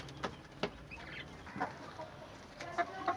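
Chickens cluck in short scattered bursts at a distance, with a quiet background between calls; chicken coop, including an Americana rooster of a blue-green egg-laying breed.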